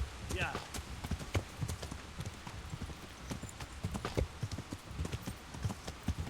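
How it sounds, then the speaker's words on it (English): Rapid hoofbeats of a galloping horse in the video game Kingdom Come: Deliverance, a steady fast clip-clop rhythm running throughout under someone talking. "keep galloping on your horse"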